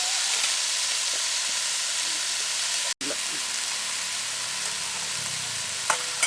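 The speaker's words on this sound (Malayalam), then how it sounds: "നമ്മൾ പിഴിഞ്ഞ് വെച്ചിരിക്കുന്ന കൂണ് കൂടി ഇതിലേക്ക് ഇട്ട് കൊടുക്കും" Squeezed mushrooms fry in a pan for mushroom thoran, giving off a dense, continuous sizzle with occasional stirring scrapes. The sound cuts out for a moment partway through.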